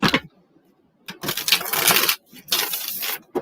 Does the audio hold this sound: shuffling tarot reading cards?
yes